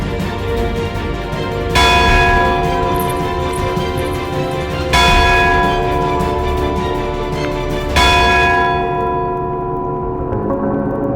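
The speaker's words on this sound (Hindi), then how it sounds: "ये घंटी तो तब बजती है जब राज परिवार में से किसी सदस्य की मृत्यु होती है।" A large bell tolls for the death of a royal family member, three slow, loud, resonant strikes about three seconds apart, each ringing on and fading into the next, alone with no voices.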